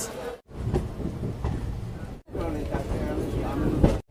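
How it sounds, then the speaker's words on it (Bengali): Black Diamond Express passenger train pulling out, heard from inside a compartment as a low rumbling, clattering rolling noise with muffled voices talking over it, interrupted by brief gaps. "ছেড়ে দিল ব্ল্যাক ডায়মন্ড এক্সপ্রেস"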